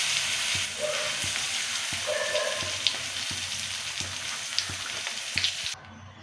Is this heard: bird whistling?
no